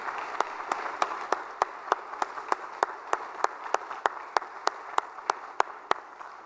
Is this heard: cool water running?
no